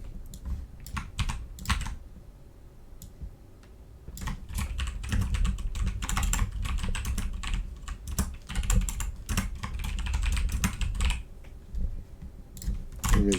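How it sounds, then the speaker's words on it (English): Steady typing on a computer keyboard while entering code for a Java calorie calculator program, with dense, rapid clicking bursts and short pauses, close and fairly loud with no talking. "I guess I am going to type it out."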